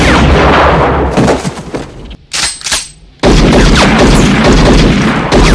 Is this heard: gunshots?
yes